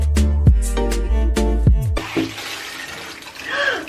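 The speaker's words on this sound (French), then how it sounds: "ma pomme de douche ici qui filtre le calcaire" Water from a limescale-filtering shower head during hair washing, starting with a few sharp knocks and a short resonant sweep, then turning into a steady hiss of running spray that fills the rest of the clip.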